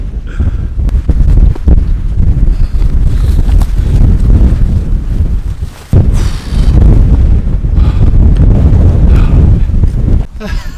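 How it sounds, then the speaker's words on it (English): Strong, roaring wind on a clifftop trail in the Blue Mountains buffets the microphone in heavy low rumbling gusts, nearly continuous, with a brief lull midway. "Oh man, it's so windy."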